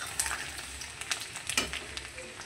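Whole garlic cloves dropped into hot oil with black cumin, a soft crackling sizzle with scattered pops and light clinks, close and quiet, with no talking.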